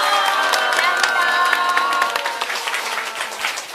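A crowd applauds steadily in an indoor lecture hall at a religious gathering, with dense clapping and some cheering throughout, easing slightly toward the end.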